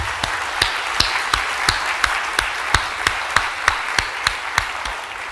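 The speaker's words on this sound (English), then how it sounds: "I think we give them all a great applause and a congratulations for their work." An audience applauds at an academic awards ceremony, with steady clapping from a crowd and several sharp, louder claps standing out near the microphone in a regular pattern.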